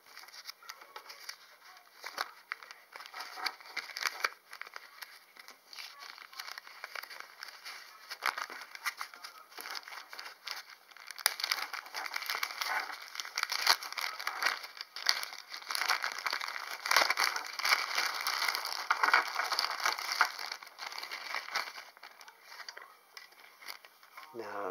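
A bag being rummaged through to take out a horn coral fossil from the Devonian period: steady crinkling, rustling and patter of handling over about 25 seconds, moderately close, with no speech.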